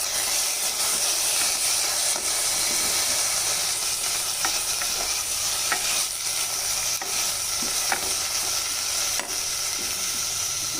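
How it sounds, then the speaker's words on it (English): Washed, drained rice being stirred and sautéed with caramelized onions in a hot pan for Sindhi browned rice, a steady loud sizzle and hiss with occasional scraping stir sounds throughout. "Now I will be adding the washed and drained rice. We'll give it a gentle saute."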